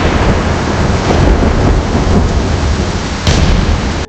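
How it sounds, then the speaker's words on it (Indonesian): Steady heavy rain pours outside a hotel at night, a dense unbroken wash of noise with a deep rumble underneath, loud and close throughout with no voices. "Malam itu hujan turun pelan di luar hotel"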